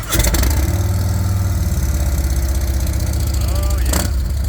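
A Harley motorcycle engine idles with a deep, loping exhaust note, rumbling steadily and loud up close, with a brief higher blip near the end.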